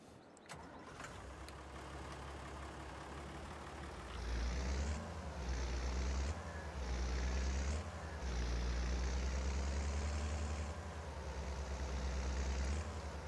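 A tractor engine in Farming Simulator 22 starts up and idles, then revs in repeated surges with a steady low drone throughout, loud and close.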